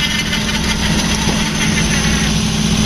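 The motor of a homemade snow plow runs loud and close in a steady, rough drone with no letup.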